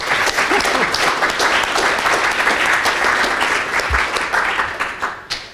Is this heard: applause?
yes